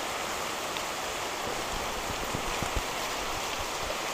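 Steady rain falls outdoors in a garden plot, a dense, even hiss with a few louder drops pattering close by.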